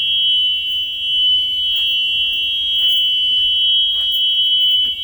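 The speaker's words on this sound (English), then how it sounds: "Emergency exit, opens, you can hear a buzzer." A school bus emergency exit buzzer sounds continuously at one high pitch, steady, piercing, loud and close, with faint background rustling.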